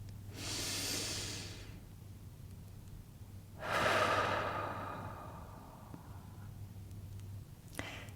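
Two slow, deep breaths during a guided meditation, each a long airy inhale followed by a gradual exhale, close and soft, with a small click near the end.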